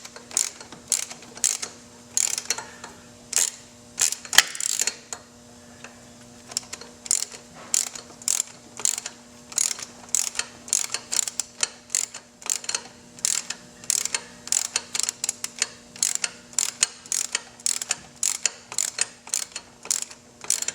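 A ratchet on a long wobble socket turns bolts while installing torque tubes on a steel-frame Victory motorcycle, giving repeated quick bursts of clicking in an even rhythm, close and crisp, with short pauses between strokes.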